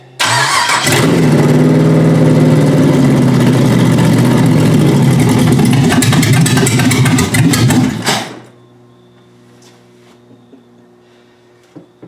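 A Porsche 944 fitted with a 6.0 V8 engine fires up and runs loud and rough for about eight seconds, then cuts off abruptly, leaving near silence.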